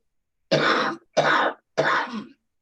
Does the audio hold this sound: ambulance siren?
no